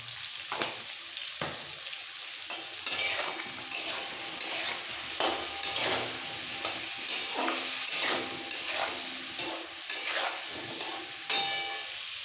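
Pointed gourd (potol) with salt and turmeric fries in a pan in a vegetarian potato curry, a steady sizzle broken by regular scraping stirs of a spatula, close and clear with no talking.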